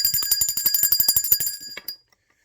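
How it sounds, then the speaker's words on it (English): A single bell is struck several times in quick succession, its bright ringing tone sustained with a steady pulsing rhythm before cutting off abruptly into silence. "Let me ring the bell for that."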